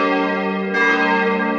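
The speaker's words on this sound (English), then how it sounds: "School bell ring, let's go class." A school bell rings with a sustained, loud metallic tone carrying many steady overtones, swelling brighter partway through and continuing without pause for the full length.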